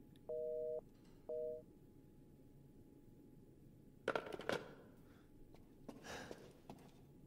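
An unwired telephone in the horror game Resident Evil Village gives two short electronic rings, then silence, followed by faint rustling and thuds from movement.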